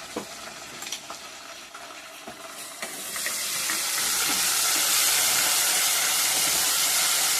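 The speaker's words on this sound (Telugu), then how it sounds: "పచ్చి వాసన పోయేదాకా వేయించుకున్నాము అల్లం వెల్లుల్లి పేస్ట్." Ginger garlic paste fries in a pan for mutton dry curry, starting with a crackling sizzle and a few stirring knocks, then swelling into a louder, steady steamy hiss.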